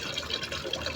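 Water pumped by a washing machine pump through a green hose into a 10-liter filter bucket at a home tilapia setup splashes and gurgles in a brief, close, steady trickle.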